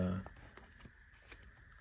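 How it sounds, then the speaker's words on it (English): Short bursts of Magic the Gathering cards being shuffled, soft papery flicks and light snaps, close by and fairly quiet after a louder opening thump. "I wonder if I can"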